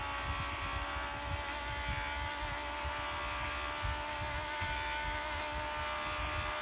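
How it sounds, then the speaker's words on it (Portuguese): Steady droning car engine from a mobile racing video game, a continuous hum with faint tonal whine held at constant loudness throughout, with no voices over it. "Ó o motor do carro, é o som do carro."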